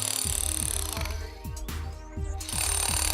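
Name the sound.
chiselling concrete to cut a chase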